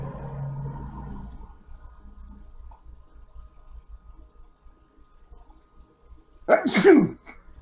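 A single loud sneeze bursts out near the end, after quiet murmuring talk and background noise at a tabletop Dungeons & Dragons game session.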